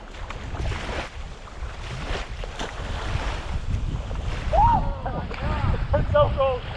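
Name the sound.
strong wind at a lake above a dam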